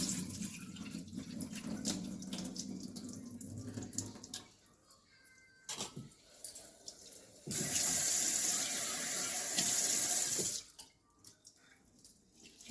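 Tap water runs into a kitchen sink while flattened rice (poha) is rinsed, steady at first, pausing with small clinks and splashes, then returning as a stronger, louder gush before stopping.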